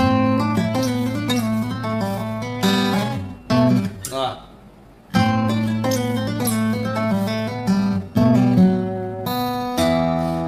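Fingerpicked acoustic guitar playing Hungarian Dance No. 5 alone, ringing bass notes under plucked melody lines, with a brief pause in the middle before the pattern resumes.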